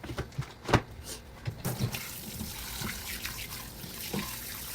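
Water splashes and trickles close by over frozen vegetables, with a few sharper splashes at first, then a steady pouring flow.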